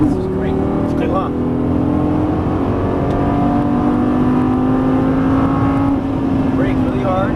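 A Lamborghini Gallardo LP550-2 accelerates hard on a racetrack, its engine pitch climbing steadily in a loud, continuous roar heard from inside the car, with a brief shift-like dip near the end.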